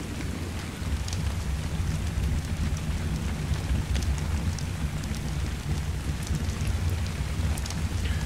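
Steady rain falls in the ARK: Survival Evolved game world, a dense continuous hiss with soft low rumble throughout, close and fairly loud with no talk over it.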